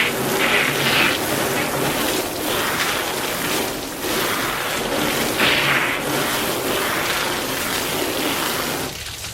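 Water floods continuously over a car's painted panels during a rinse, a steady broadband rushing and splashing that holds at an even level for the whole stretch, with no talk.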